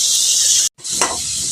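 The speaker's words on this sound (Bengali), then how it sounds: "বন্ধুরা, আলুগুলো লাল করে ভেজে নিয়েছি দেখুন। এবার আমি আলুগুলোকে উঠিয়ে নেব।" Potatoes fry in hot oil in a kadai, giving a steady, bright sizzle up close that cuts out for an instant, then resumes with a stirring scrape.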